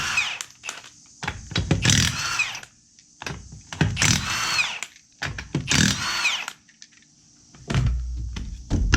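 A power tool, likely an impact wrench, removes the wheels from a 2013 Nissan Altima outdoors at night before a brake inspection, firing three loud close bursts of roughly a second each with short pauses between them.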